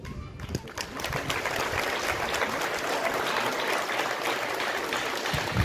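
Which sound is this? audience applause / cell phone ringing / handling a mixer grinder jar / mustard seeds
audience applause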